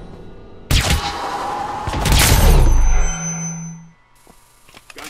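Gunfire in Hitman: Absolution, a loud burst of rapid shots with booming echoes that rings out for about three seconds, then cuts to near silence with faint clicks.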